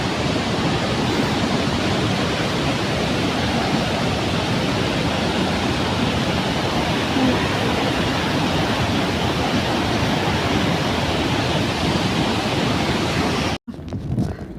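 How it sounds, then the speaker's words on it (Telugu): Jana waterfall near Manali pours down from a height, a loud, steady, dense roar of rushing water heard up close, constant throughout with a brief break near the end and no talk. "చూడండి వాటర్ ఫాల్ ఎంత పైనుంచి ఎలా వస్తుందో"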